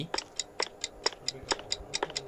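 Clock ticking steadily in the horror video game Specimen Zero, a regular series of sharp, evenly spaced ticks about four per second, fairly close and clear with no talk over it.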